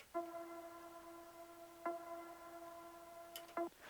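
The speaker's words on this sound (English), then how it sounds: "this pad pluck was actually made in Serum" A plucked synth pad patch built in Serum plays three sustained, harmonically rich notes struck at spaced intervals, each ringing evenly until the next, soft and alone.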